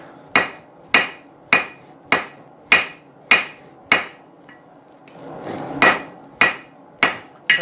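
A hammer strikes hot steel on an anvil to flatten the end of a hand-forged chisel, about a dozen sharp ringing blows at a steady, roughly half-second rhythm, with a brief pause and some rustle midway.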